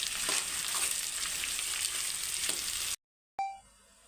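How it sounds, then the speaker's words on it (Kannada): Two onions sizzle and crackle steadily in a hot pan for a Kannada onion curry, a continuous close frying hiss with small stirring pops before it cuts off abruptly. "ಈಗ ಫ್ರೈ ಮಾಡಬೇಕು"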